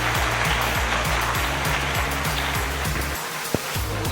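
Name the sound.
audience applause requested by speaker at a show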